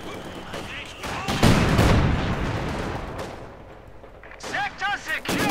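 Artillery and gunfire in the video game Company of Heroes 2 come as loud sharp blasts and crackling bursts. One heavy impact booms and fades, and more shots follow, with speech woven through the battle.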